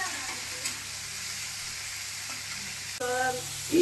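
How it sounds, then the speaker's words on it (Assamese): Melon seeds, nuts and cardamom fry steadily in a hot pan with oil, giving a continuous close sizzle and a brief stir near the end. "তাৰপিছত দিছোঁ মগজদানা, বাদাম, এলাচি। এইখিনি সকলো অলপ ভাজি ল'ম"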